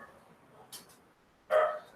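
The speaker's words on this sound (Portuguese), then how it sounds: "só o cachorro para de latir do vizinho" A neighbour's dog barks from a distance in a quiet room: one faint short yip, then a louder, sharper bark a moment later.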